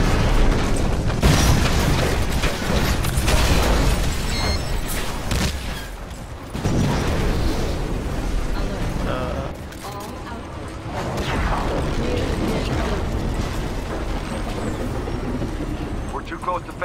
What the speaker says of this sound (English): Spinning up the cannon for another shot.